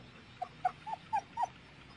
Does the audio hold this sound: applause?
no